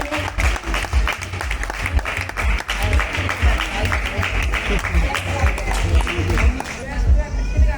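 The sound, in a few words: loud applause for drawing competition winner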